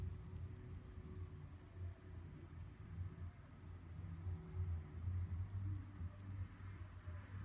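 Steady, low traffic rumble from a road beyond a home, heard as a constant distant wash of passing cars with no talk.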